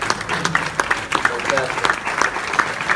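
Audience applause at a literary award ceremony, a steady patter of many hands clapping with scattered louder claps, while voices murmur and speak over it throughout.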